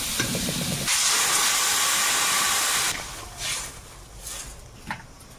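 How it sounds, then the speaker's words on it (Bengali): Water hits a hot pan of well-fried spice paste while prawns and pointed gourd are being cooked, bursting into a loud sizzling hiss that lasts about two seconds before settling into softer, intermittent bubbling. "ভালো করে কষিয়ে নিয়েছি, এবারে জল দেবো।"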